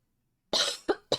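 A person coughs near and alone, a sustained harsh first burst followed by two shorter sharp coughs.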